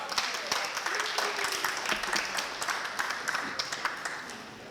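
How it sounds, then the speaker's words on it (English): Audience applause at a college poetry open mic in Berkeley: a dense, steady wash of many hands clapping at moderate volume for the whole stretch, with a few sharper individual claps standing out. "Let's clap for him."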